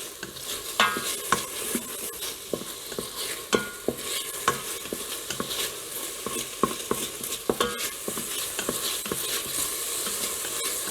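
Southern-style green beans cook in a Fissler pot while a spoon stirs them, giving a steady background sizzle punctuated by sharp, irregular scrapes and knocks against the metal.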